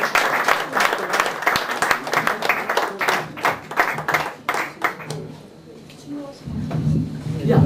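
Close, loud hand-clapping from a small gathering rings out for Mrs. Leers, called forward for an award, with sharp individual claps for about five seconds before it dies away and people begin talking.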